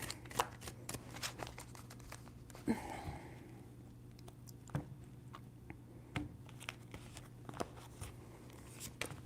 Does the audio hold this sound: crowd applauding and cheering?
no